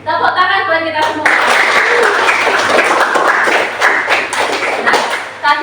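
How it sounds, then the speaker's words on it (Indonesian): Students in a classroom coding and artificial intelligence lesson break into loud, dense applause mixed with thumps and taps, rising abruptly after a brief spoken line and holding steady to the end, with voices talking over it. "Tepuk tangan buat kita semua."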